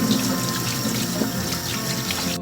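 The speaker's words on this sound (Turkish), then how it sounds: "Daha sonra bunları yıkıyorum ki sıcak olursa yoğurt kesilmesin." Boiled vegetables are rinsed under running tap water in a kitchen sink, giving a steady, loud, close rush of water throughout.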